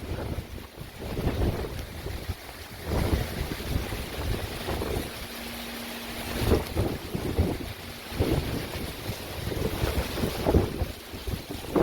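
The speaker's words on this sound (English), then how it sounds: "Just sheets of rain pouring down now," Squall from Hurricane Ida on Dauphin Island: sustained roaring wind buffeting the microphone with driving sheets of rain, surges and gusts rising and falling throughout, loud and close with no talking.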